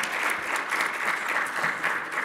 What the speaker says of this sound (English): So why don't we give our panelists a round of applause?